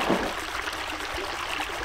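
Gentle trickling and lapping of hot spring water in the video game Naruto Ultimate Ninja 3, a soft continuous stream-like wash at moderate level with no voices.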